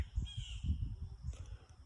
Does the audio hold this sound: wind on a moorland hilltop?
no